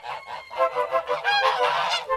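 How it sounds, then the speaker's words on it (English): White geese honking in a rapid run of loud, nasal calls, close by and overlapping, with no talk. "5 white geese,"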